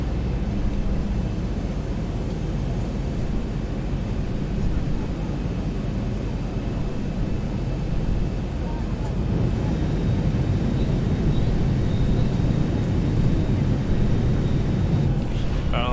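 A Boeing 737-700 flying in windy conditions in the X-Plane 11 flight simulator, on approach to Portland: a steady, loud engine and airflow roar with a deep rumble that holds throughout, slightly swelling in the second half.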